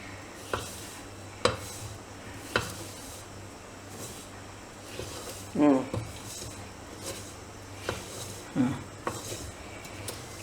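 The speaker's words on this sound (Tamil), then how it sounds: "நல்ல கிளறுங்கம்மா." Athirasam batter being stirred in a pan, with soft scraping and occasional clinks of a spoon against the metal, irregular and close, under a woman's instructions in Tamil.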